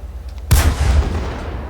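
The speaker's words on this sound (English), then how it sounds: "ooh, that gun sound, I love it." A Japanese heavy tank gun fires once in World of Tanks, a sudden loud boom with a deep rumbling tail fading over a second.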